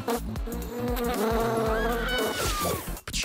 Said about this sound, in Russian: Пчела укусила Дженни прямо в губу